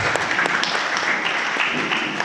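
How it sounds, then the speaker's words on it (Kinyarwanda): A church congregation claps steadily and continuously, a dense wash of many hands applauding together at fairly loud level. "Reka dukomere Imana amashyi mu izina rya Yesu."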